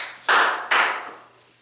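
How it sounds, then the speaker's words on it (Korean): Two sharp hand claps in a classroom, quick and close, each ringing briefly before fading into quiet room tone. "졸린 사람 박수를 쳐라"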